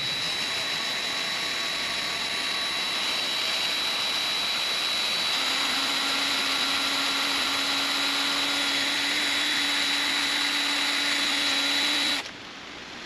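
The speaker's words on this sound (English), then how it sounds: "we'll try to drill a little bit more with a fresher drill bit" A steady, high-pitched mechanical whine of a fresh drill bit grinding into a broken LS cylinder head bolt runs continuously, shifting slightly in pitch midway, then cuts off abruptly near the end.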